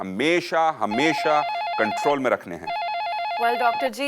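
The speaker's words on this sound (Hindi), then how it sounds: "आप सुन पा रहे होंगे कि फोन की घंटी कितनी देर से बज रही है" A telephone keeps ringing with a repeated electronic warble, running under someone speaking Hindi and continuing in the pauses between his sentences.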